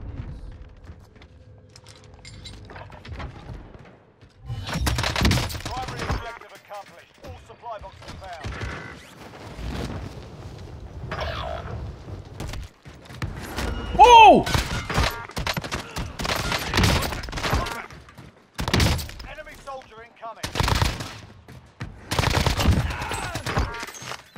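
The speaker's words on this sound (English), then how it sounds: "I'm taking fire." Gunfire from the video game Warzone sounds in repeated loud bursts and rapid volleys, some close and sharp, mixed with game voice callouts and a player talking between the shots.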